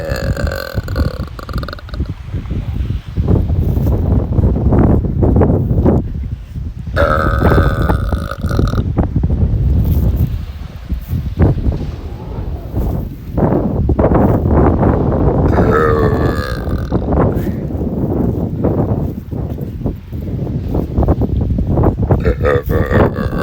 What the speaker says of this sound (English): I'm trying to burp a little quiet because there's a bunch of people down at the beach.